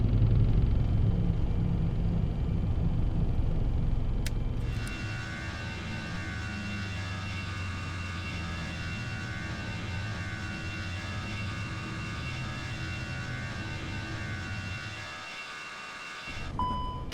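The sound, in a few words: FSLabs A320-X flight simulator takeoff engine roar, video game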